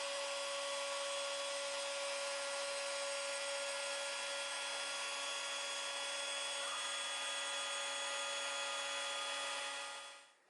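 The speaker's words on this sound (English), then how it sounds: "The inlay mortise being cut into the front piece using a 1/16 end mill." A CNC machine runs a 1/16 end mill cutting an inlay mortise into rosewood, producing a steady high-pitched whine with strong sustained tones throughout, then winding down and fading at the end.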